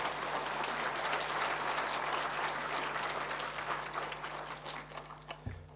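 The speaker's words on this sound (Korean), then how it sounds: "우리 목사님 나오실 때 우리 박수로 우리 모시도록 하겠습니다." Church congregation applauding to welcome the pastor at a Sunday service, a broad, sustained wash of clapping that thins out and tapers into a few scattered claps at the end.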